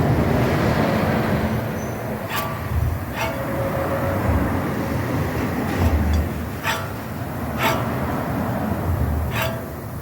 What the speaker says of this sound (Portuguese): Eu vou mostrar pra vocês um barulhinho que ele tá no rolamento